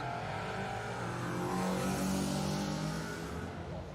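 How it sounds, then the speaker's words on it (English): Mini Cooper R50 rally car on a circuit rally stage at Cadwell Park, engine revving steadily with a swelling, sustained drone as it is thrown around on the handbrake, heard from a distance. "Mini Cooper R50. Dancing it around on the handbrake."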